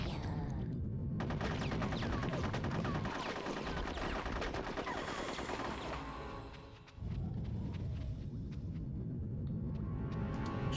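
Rapid automatic gunfire and bursts of shooting in the video game Conker's Bad Fur Day, dense and continuous with a brief lull before firing resumes, loud amid rumbling game effects.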